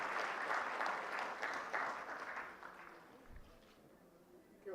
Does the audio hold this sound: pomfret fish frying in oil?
no